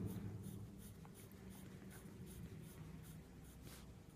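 Pen scratching hatching lines on paper for an engineering drawing, a soft continuous rhythmic scratching with repeated short strokes, faint and close against a low background hum.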